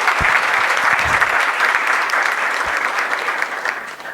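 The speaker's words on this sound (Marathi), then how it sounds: "एकदा जोरदार टाळ्या झाल्या पाहिजे" Loud, sustained applause from an audience at a Marathi poetry event, a dense wash of clapping that runs steadily for several seconds and eases slightly toward the end.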